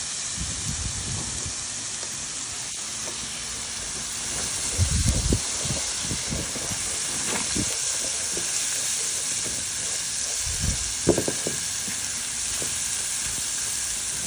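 Curry powder, masala, jeera and turmeric frying in a pot for Guyanese seven curry, a loud continuous hissing sizzle with bursts of stirring scrapes throughout.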